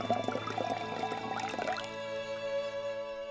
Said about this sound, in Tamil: பாட்டி ஒரு மண்பானையை எடுத்தாங்க. அந்த கலங்கின தண்ணிய ஊத்தி